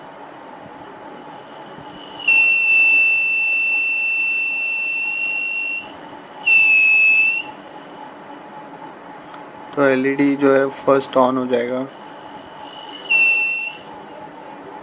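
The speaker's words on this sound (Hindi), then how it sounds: "और बाद में बज़र ऑन हो जाता है।" A battery low-voltage indicator circuit's buzzer, set for about 6 volts, sounds a steady high electronic tone in long, loud beeps with short gaps, alongside someone speaking.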